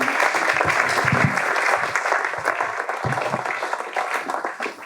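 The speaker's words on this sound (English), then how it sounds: "So would you just give a round of applause for my dad?" An audience at an evening church talk gives sustained applause, a dense, steady patter of many hands clapping that fades slightly toward the end.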